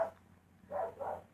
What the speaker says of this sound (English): I can hear my neighbor's dog Pepper barking